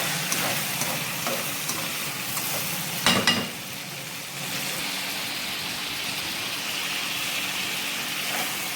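Prawns sizzle and fry in a pan for a karahi, a steady hiss throughout with a brief clatter of stirring near the middle.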